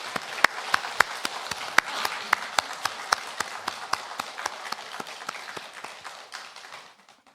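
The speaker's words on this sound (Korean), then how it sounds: "이 시간 찬양받기에 합당하신 하나님께 영광의 박수를 올려드리겠습니다." Congregation applauding during a Sunday worship service at a Korean church, with sharp individual claps in a steady, fairly close rhythm over roughly seven seconds before tapering off at the end.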